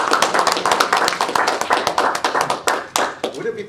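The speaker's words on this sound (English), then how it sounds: "please give him a warm welcome to the podium with applause" A small audience claps steadily in a lecture room to welcome a speaker to the podium, a brisk, dense patter of hands close by that thins out and stops near the end.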